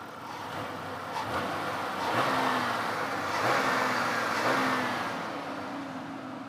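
A car engine revs up when the throttle is snapped, rising and falling in two or three swells over a steady idle, close and fairly loud, with no talking.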